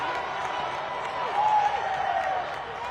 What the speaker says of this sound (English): Raucous applause from the home faithful.